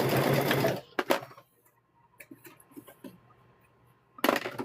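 A sewing machine stitches fabric for a welding hat in loud, steady bursts: a long run at the start, a couple of short stabs, then quiet handling noises before another burst at the end.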